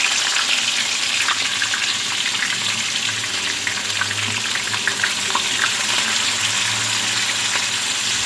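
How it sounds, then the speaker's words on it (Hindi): Onions frying in hot oil in a kadhai, a steady bright hiss and sizzle that carries on evenly throughout, with no talking. "अब इसमें मैं प्याज ब्राउन कर लूँगी।"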